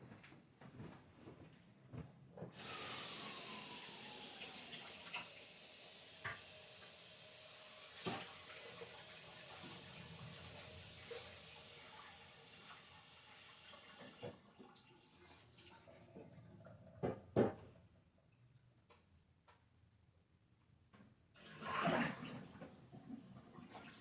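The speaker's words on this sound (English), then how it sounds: "Let me rinse this off real quick." A kitchen faucet runs steadily for about twelve seconds while food is rinsed under it. The water is close and fairly loud, then shuts off, followed by a few clatters and a later short burst of splashing.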